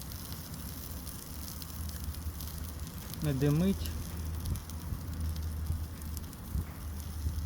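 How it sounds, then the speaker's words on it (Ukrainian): Button mushrooms fry on a grill tray in oil, giving a steady soft sizzle that runs the whole time beneath a talking voice. "Так, смаження печериць."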